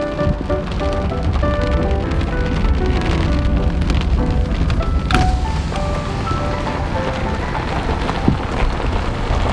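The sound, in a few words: cold pouring rain outdoors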